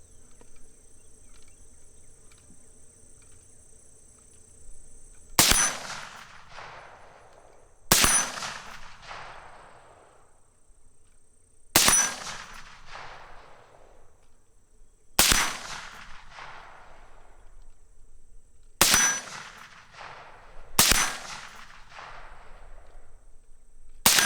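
Six sharp rifle shots ring out at an outdoor shooting range, spaced a few seconds apart, each a loud crack followed by a decaying echo, with a constant insect-like buzz between them.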